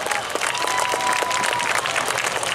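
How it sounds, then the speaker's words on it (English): A crowd at a truck pull event applauds in a continuous, moderately loud burst of clapping heard from within the stands. "Give her a big round of applause all the way from Wetaskiwin"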